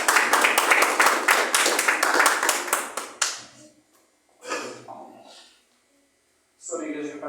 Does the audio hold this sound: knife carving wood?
no